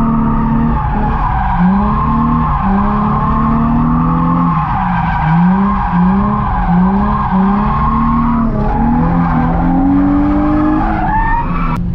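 Car drifting with the handbrake pulled on a downhill stretch, with long loud tire squeals sliding and wavering over a continuous revving engine, close and sustained.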